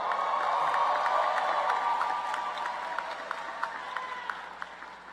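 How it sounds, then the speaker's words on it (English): Graduating class applauded by the crowd at North Carolina Central University's 2017 winter commencement ceremony, a steady wash of clapping and cheering that slowly thins, with a few scattered claps standing out near the end. "Give them a round of applause."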